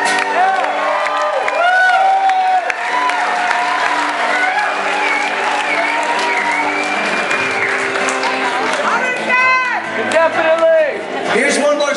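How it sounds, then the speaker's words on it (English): A concert audience applauds and cheers for several seconds, a dense, steady wash of clapping with scattered whoops, shouts and talk mixed in across the whole clip. "Have a little round of applause for y'all."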